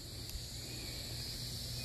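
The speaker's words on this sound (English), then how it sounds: "Y'all hear those cicadas?" Cicadas in a backyard vegetable garden, a faint continuous high-pitched buzzing drone holding steady under a quiet outdoor background, with no voices.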